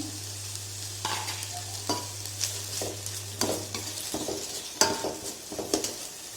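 Onions sauté in a pan for a pigeon meat curry, a gentle steady sizzle with repeated scraping and knocking of a spoon stirring every second or so, close and quiet, without talk.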